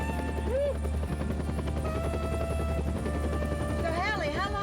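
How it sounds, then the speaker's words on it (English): A tour helicopter in flight gives a steady, loud rotor and engine drone with a low throbbing hum that fills the whole stretch, while voices speak over it. "Nobody knows I took the chopper out."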